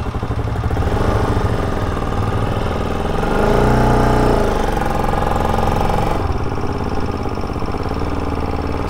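A Bajaj Pulsar RS200 BS3 motorcycle engine idles close by in a steady, loud mechanical drone, swelling briefly in the middle before settling back, with a rough edge to the running and no talking.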